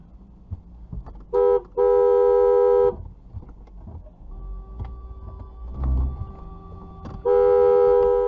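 A car horn blares in long sustained honks at a motorway rest area, with a long blast near the start, a quieter tonal stretch in the middle and another loud continuous blast at the end, no talking.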